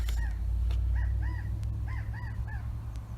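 A raucous crow-like bird caws repeatedly in short, harsh, paired calls spaced irregularly, fairly close and clear over a low background rumble.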